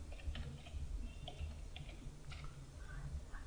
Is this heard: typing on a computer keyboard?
yes